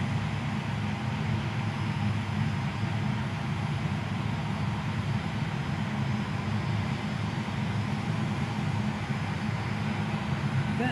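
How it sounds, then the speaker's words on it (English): A jet dragster engine at Tucson Dragway gives a continuous, fairly faint roar with a broad rushing texture, steady and distant throughout. "The wicked sensation, Jet Dragster, no stranger to Tucson Dragway."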